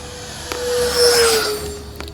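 An RC F-15 Eagle model jet with a 64mm electric ducted fan whines steadily at half throttle, a loud, rising-and-falling turbine hiss close by with a faint tonal whistle.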